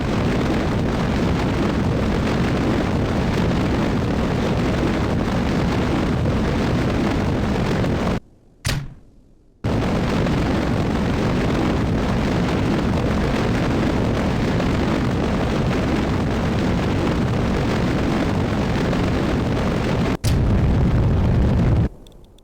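Rocket engines in Spaceflight Simulator roar in a loud, continuous blast, broken by a brief cutout of near silence partway through, then resuming before a final louder surge.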